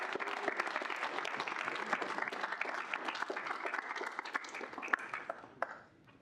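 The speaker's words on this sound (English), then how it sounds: "If you want to give a big round of applause for our" Students at a senate meeting applaud, a dense steady patter of many hands that runs for several seconds before fading out at the end.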